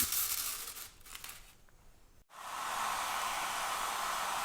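A hair dryer blows with a steady, loud whooshing roar, briefly cut off, then switches back on and keeps running.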